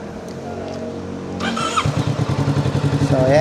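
A stock lightweight motorcycle engine starts up partway through and settles into a close, even, pulsing idle that sounds fairly quiet.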